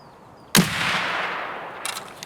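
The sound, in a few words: rifle gunshot in the video game Escape from Tarkov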